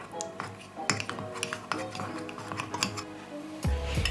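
A utensil stirs melted chocolate in a bowl for an express chocolate cake, giving a run of scraping clinks and knocks against the dish, close and steady.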